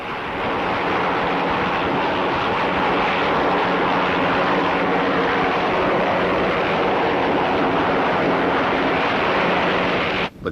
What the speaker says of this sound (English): Every day a helicopter delivers the state papers to the Britannia.